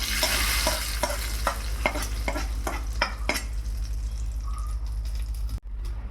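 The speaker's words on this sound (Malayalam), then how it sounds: "ഒന്ന് ഇളക്കി കൊടുക്കാം." Green peas curry made with coconut milk, stirred in a pan with a steady sizzle and a run of evenly spaced spoon scrapes that slows and then stops, heard close with no voices.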